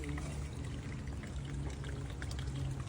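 Coconut water is poured in a continuous splashing stream at a busy street market in Johor Bahru, steady and close, over faint background bustle.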